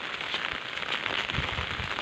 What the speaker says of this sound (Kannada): ಸಿಕ್ಕಾಪಟ್ಟೆ ಮಳೆ ಅಂದರೆ ಮಳೆ